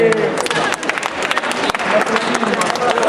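Applause from a crowd at the final of an Italian dance-battle competition, dense continuous clapping throughout with voices mixed in under it.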